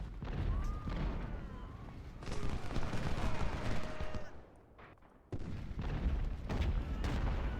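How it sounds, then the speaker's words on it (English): Cannon and artillery fire from the Ultimate General: Civil War battle game rolls as repeated booms and crackling volleys under a dense, loud battle din, with a brief lull before the barrage resumes. "We're using our superior artillery here."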